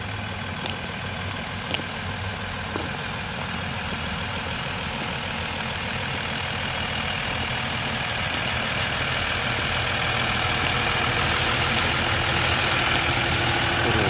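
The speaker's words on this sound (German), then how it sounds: "Mein Freund setzt äh, das Boot gerade rein mit dem Trailer." A vehicle engine runs loud and steady nearby while launching a boat from a trailer, a continuous heavy rumble that swells slightly louder toward the end.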